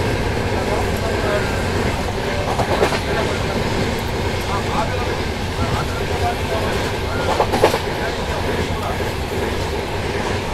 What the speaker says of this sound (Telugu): మన ట్రైన్ అయితే ఫుల్ ఎంపీఎస్ లో అయితే వెళ్తుంది